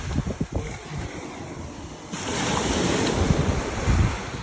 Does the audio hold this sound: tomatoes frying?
no